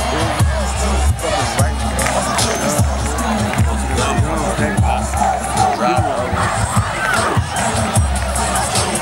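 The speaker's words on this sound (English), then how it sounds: "Had to walk up on this big ass crowd of people." A large crowd at a freshman week building battle cheers and shouts steadily throughout, loud and close. Heavy rhythmic bass thumps and a hubbub of voices run underneath the cheering.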